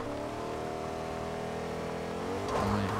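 A car engine in Fortnite holds a steady droning tone, then swells and revs louder in the final half second, close and without talk.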